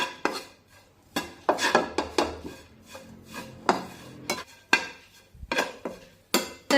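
A spatula scrapes and clinks against a pan as spiced peas kachori filling is stirred on a low flame, with irregular metallic knocks and rasping strokes close up, no talk.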